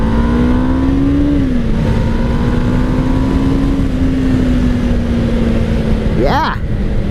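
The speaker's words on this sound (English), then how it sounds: "she's revving it out good" A 1991 Kawasaki Ninja EX500 ridden on a cold road holds a steady engine drone with wind rushing past, then a sharp rev climbs quickly near the end.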